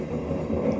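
A homemade forge melting aluminum pop cans roars loudly and steadily, a dense continuous rumble with no pauses.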